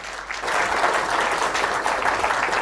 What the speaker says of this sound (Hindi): जब किसी स्पीकर से कुछ अच्छा लेना होता है ना, तो तालियां बजाते रहना चाहिए।